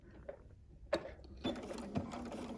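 A home sewing machine stitches along a marked line on a quilt block, with a few short mechanical bursts that settle into a steady, close whirring run at the end.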